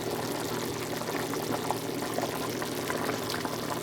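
A pot of water with a little oil bubbling at a steady boil with pasta cooking in it, a dense continuous fizzing and popping hiss heard up close with no talking.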